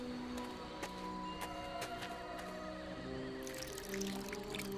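In the game The Book of Unwritten Tales, water is poured from a bucket onto dry earth, a short splashing gush that rises near the end over sustained background music tones.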